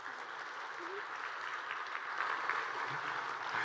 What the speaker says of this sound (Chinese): 我们再一次的给他多一个掌声